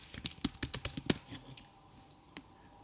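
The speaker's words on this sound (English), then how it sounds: "I'm going to type an instruction" Quick bursts of close, crisp key clicks on a computer keyboard as someone types, about a dozen taps in a rapid run that tapers off, then one last isolated tap after a quiet pause.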